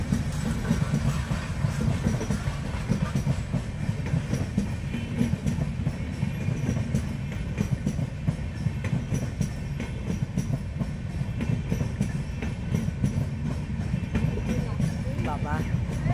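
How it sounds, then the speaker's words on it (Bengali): The Kanchankanya Express passes by a rail line in the Dooars, a sustained, fairly loud rumble with rhythmic wheel clatter running throughout while people speak over it. "চলে আসলো কাঞ্চনকন্যা"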